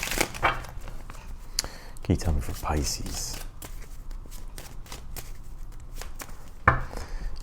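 Soft papery riffling and light taps of tarot cards being shuffled, scattered over several seconds beneath a voice talking nearby.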